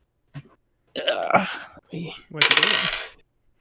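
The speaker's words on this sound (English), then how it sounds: "I dropped the dice earlier." Dice dropped on a table during a tabletop role-playing session, a few quick clattering impacts scattered among nearby voices talking.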